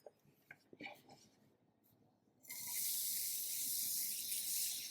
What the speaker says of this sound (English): you want to make sure that your onions keep the sizzling sound